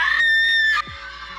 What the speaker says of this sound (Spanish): Un grito atravesó instantáneamente toda la calle.